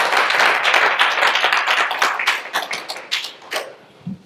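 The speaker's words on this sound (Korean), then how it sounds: "우리 감사의 박수 한번." Audience applause in a church gathering during a New Year worship service, a dense burst of many hands clapping loudly that thins out and tapers over a few seconds.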